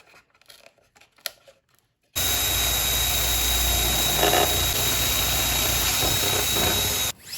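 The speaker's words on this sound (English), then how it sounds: "so I'm going to have to drill a hole in there." After a few seconds of quiet handling, a small drill bores a hole through the bulkhead of a vintage 1960s Veron Caribbean Coaster model boat, giving a loud, steady whine for about five seconds before cutting off.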